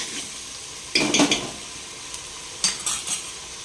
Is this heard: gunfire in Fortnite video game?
no